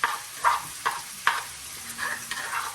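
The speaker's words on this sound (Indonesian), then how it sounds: "Tumis dulu sedikit aja" A pan sautés ingredients for opor ayam over a soft sizzle, broken by several distinct spatula scrapes and knocks at uneven intervals, close by with no voices.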